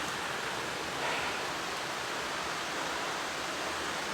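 A waterfall in a hillside area gives a steady, loud, broad rushing roar that holds unchanged throughout, with no voices.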